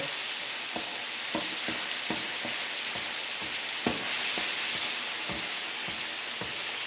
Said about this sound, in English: you want to kind of stir the garlic with that olive oil